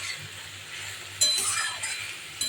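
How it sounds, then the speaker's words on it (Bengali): A utensil stirs ridge gourd and potatoes in a pan, giving a soft scraping sizzle marked by a couple of bright metallic clinks. "এবার নাড়াচ্ছি।"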